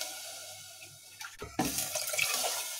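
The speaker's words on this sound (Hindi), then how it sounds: "और साथ ही मैं इसमें ये पानी डाल दूंगी।" Water gushes into a pressure cooker holding khichdi, starting abruptly as a loud splashing pour that keeps running after a short quiet lead-in.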